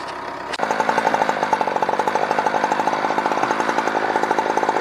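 An Alaskan chainsaw mill starts a cut into a lodgepole pine log, the saw kicking in abruptly and then running loud and close with a rapid pulsing engine rhythm and no talking.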